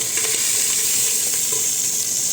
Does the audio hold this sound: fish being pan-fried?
yes